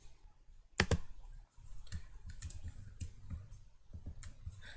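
A computer mouse clicks crisply several times at an uneven pace, one louder click near the start, over a low steady room hum with no talking.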